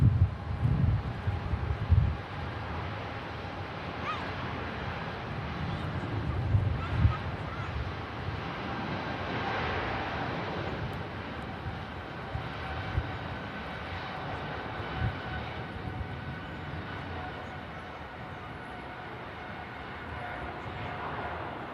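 An Emirates airliner takes off at Manchester Airport, its jet roar spreading as a broad, steady rumble that holds for the whole stretch, with faint voices murmuring early on.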